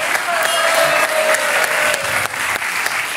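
Studio audience applause on a French talk show, loud and close, a continuous thick roar of clapping with a faint tone running underneath.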